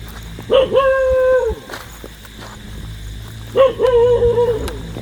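A dog gives two drawn-out, whining howls a few seconds apart, set against a noisy outdoor background.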